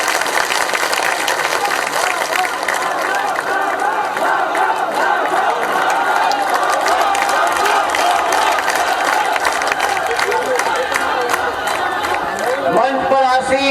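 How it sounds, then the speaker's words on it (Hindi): A large crowd at an outdoor election rally welcomes Shivraj Singh with loud, sustained applause and cheering, dense and continuous throughout, with shouting mixed in. "तालियों की गड़गड़ाहट से शिवराज सिंह जी की स्वागत करें"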